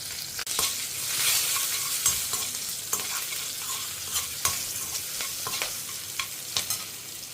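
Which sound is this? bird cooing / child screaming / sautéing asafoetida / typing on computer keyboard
sautéing asafoetida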